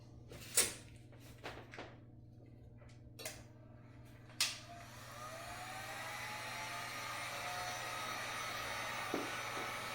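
A heat gun warming a fishing lure for powder coating, starting after a few handling clunks and knocks, then a steady blowing whir that runs on alone, moderately close, until the end.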